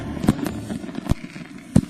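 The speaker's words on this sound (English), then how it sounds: "And then there are the New Year's Eve celebrations on December 31st, all over the city with fireworks" New Year's Eve fireworks across Munich, several sharp bangs and pops at irregular intervals, moderately distant, over a low continuous rumble of crackling and crowd noise.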